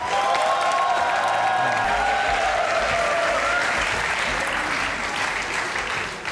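A studio audience on a Pakistani comedy talk show gives a loud, sustained round of applause. Tonal whoops or music ring through the opening seconds, then dense clapping carries on steadily to the end.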